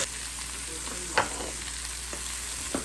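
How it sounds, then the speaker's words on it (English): Steady frying hiss from a pan of Brussels sprouts, with a couple of brief clanks of a utensil stirring the food. "We're going to let them fry for a minute or two"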